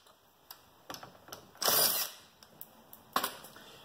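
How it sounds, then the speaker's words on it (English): Phillips and disc brake screws come out of a Peg Perego Gaucho 24-volt ride-on gearbox: a power screwdriver whirs briefly between sparse clicks and ratcheting taps, close and fairly quiet, with no talk. "we're going to remove this Phillips screw and the two disc brake screws"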